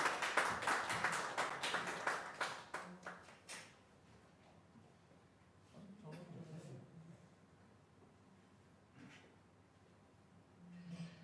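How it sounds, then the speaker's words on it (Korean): Brief applause from a church congregation during a Sunday service, rapid claps that fade within a few seconds, followed by quieter murmuring and a voice speaking. "귀한 장로님 나올 때 우리 뜨겁게 박수로 맞이해 주시기 바랍니다"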